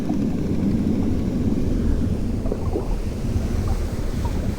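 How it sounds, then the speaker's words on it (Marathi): Big ocean waves crashing along the shore, a steady loud wash and rumble mixed with wind buffeting the microphone, with no voices. "बघू शकताय भयंकर अशा लाटा."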